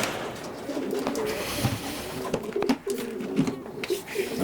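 Racing pigeons coo repeatedly close by, soft throaty calls overlapping in a busy loft, with occasional fluttering and low murmurs in the background.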